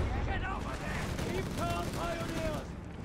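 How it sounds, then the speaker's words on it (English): Heavy automatic gunfire crackles in dense bursts across a Company of Heroes 3 battlefield. It keeps up a steady din under an excited commentator who talks throughout. "Pioneers being met with heavy automatic fire there"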